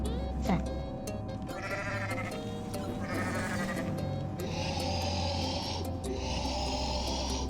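Repeated video game goat bleats, nasal and wavering, sound over a steady electronic background hum, with short pauses between calls.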